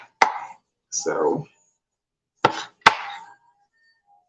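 A knife chops peppers on a board in a few sharp, separate thuds with pauses between them, close and clear, with one brief spoken word among them.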